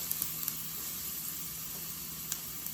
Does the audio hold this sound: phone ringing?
no